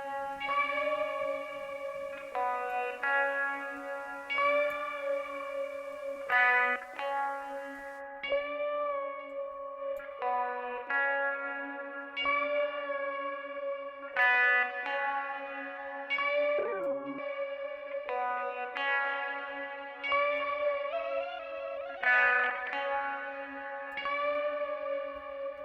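Sustained bell-like tonal music drenched in reverb from the United Plugins Verbum plugin, with long shimmering tails and a brief pitch-bending swoop midway, steady and moderately loud throughout, no talking.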